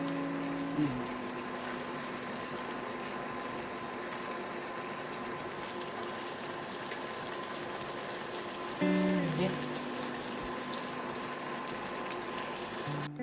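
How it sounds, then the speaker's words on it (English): Carrots, broccoli and celery leaves boiling in a pot of water, a steady bubbling hiss that stays even and close throughout, with a brief hum shift partway through. "Carrots, broccoli, celery leaves to be boiled in water so that it become tender."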